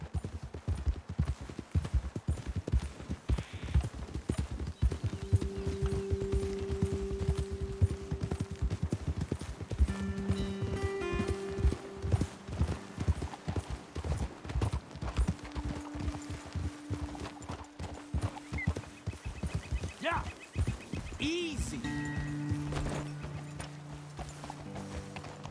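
Steady clip-clop of horse hooves in Red Dead Redemption 2 runs throughout, with occasional whinnies and snorts and some brief distant voices in the background.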